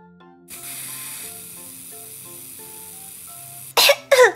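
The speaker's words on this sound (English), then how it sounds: "I'm gonna put some hairspray in your hair so it can stay in place all day" Two short, loud hissing bursts from a hairspray aerosol can near the end, following a steady background of music. The spray is aimed at a doll's hair.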